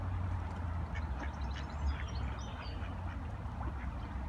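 Ducks quack softly in scattered short calls over a low outdoor rumble, faint and somewhat distant throughout.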